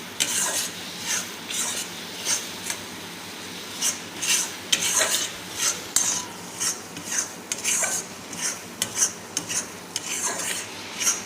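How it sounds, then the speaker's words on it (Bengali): Jaggery sandesh mixture stirred without pause in a kadai: repeated scraping strokes of a spoon against the pan's metal base in an uneven rhythm, close and fairly clear, with no talk. "অনবরত নাড়াতে হবে, নাহলে নিচে ধরে গেলে ভালো লাগবে না।"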